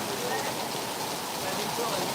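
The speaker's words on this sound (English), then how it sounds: "I hope you can hear all right with all the rain, because it's pretty loud under this roof" Heavy rain pounding on a roof overhead, a loud, dense, steady hiss and patter filling the space without a break.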